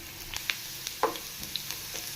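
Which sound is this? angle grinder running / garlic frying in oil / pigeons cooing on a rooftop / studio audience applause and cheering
garlic frying in oil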